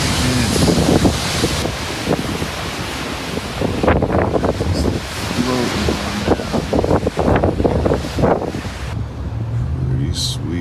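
Surf rolls in and breaks along the Monterey Bay shore with strong wind buffeting the microphone, a steady loud wash of water under occasional voices.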